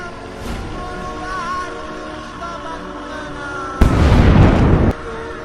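A single loud, deep boom from a Minecraft explosion bursts out for about a second over a quiet background hum, then cuts off abruptly.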